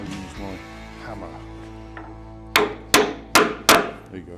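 Four loud, sharp metallic hammer blows in a steady rhythm on a Land Rover Defender engine being fitted, up close, following a stretch of low voices and shuffling.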